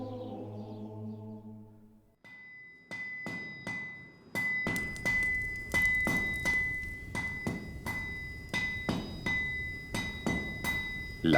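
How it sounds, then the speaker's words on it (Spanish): A forge hammer strikes red-hot iron in a series of loud, ringing metallic blows at an irregular but rhythmic pace, each with a bright sustained clang, following a brief stretch of soft tonal music at the start. "Con el rítmico golpe del martillo sobre el hierro incandescente"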